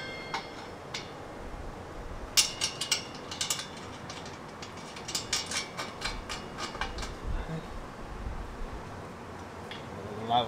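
A ratchet wrench clicks in quick runs while bolts are tightened on a double 2.5-inch sports exhaust muffler being fitted to a Subaru Impreza, close and fairly quiet, with pauses between bursts.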